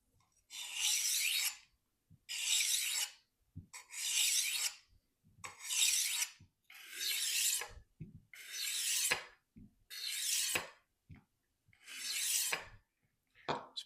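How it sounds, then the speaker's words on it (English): A knife is drawn across a rolling diamond-edge sharpener in nine or ten evenly spaced rasping strokes, each about a second long with brief pauses between, loud and close with no talking. "Use the diamond edge first, and we're going to do about 15 passes."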